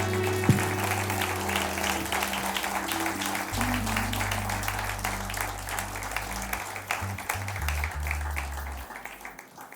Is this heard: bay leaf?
no